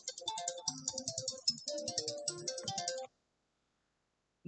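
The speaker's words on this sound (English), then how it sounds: "That was my phone." A mobile phone plays a melodic ringtone for about three seconds, close and fairly quiet, then cuts off into silence before a brief sound at the end.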